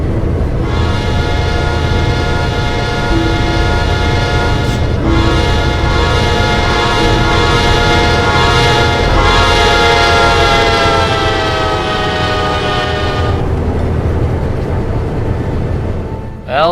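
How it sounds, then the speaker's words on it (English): An Amtrak train speeds past close by, its lead locomotive sounding long, loud, sustained horn blasts over the steady roar and rumble of the passing cars. "an Amtrak train will be speeding past us, and the lead unit will be giving us horn shells"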